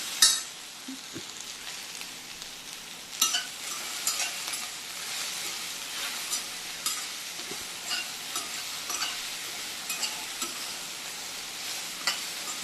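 Sliced okra fries in a pan with salt, a steady moderate sizzle broken by scattered stirring scrapes and clicks, with no talking.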